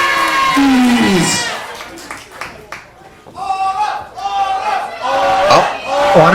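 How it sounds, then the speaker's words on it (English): A wrestling crowd chants rhythmically for women's champion Autumn Breeze, with cheering and clapping rising and falling in a live arena while commentators speak over the noise. "Autumn chant starting early among this crowd here"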